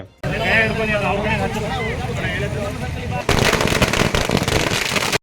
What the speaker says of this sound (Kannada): ಬಿಜೆಪಿ ಕಾರ್ಯಕರ್ತರು ಪಟಾಕಿ ಸಿಡಿಸಿ ಸಂಭ್ರಮಾಚರಣೆ ನಡೆಸಿದ್ದಾರೆ